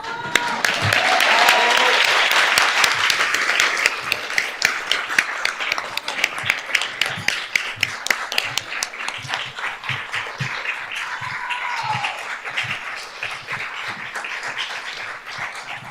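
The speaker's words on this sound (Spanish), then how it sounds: "¿Podemos aplaudir?" Audience applause at an inauguration ceremony for a chair in Arabic language and culture. A loud, dense burst opens it, then it thins into sparser, separate claps that gradually fade, with brief voices mixed in.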